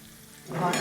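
Cumin and turmeric sauté in 2 to 3 tablespoons of hot oil, a quiet hum that breaks into a sudden, brightening sizzle halfway through the short moment.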